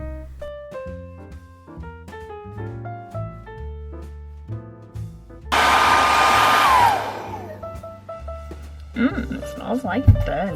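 A hair dryer roars on loudly for a couple of seconds with a whining tone while overheating with a burning smell, set against background music with a melody.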